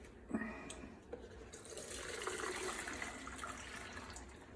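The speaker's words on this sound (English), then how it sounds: "So I'm going to take this and pour it into a separator." Pulled pork cooking juices poured from a pot into a fat separator, a steady liquid splashing and trickling that builds after a couple of small clinks, quiet and close.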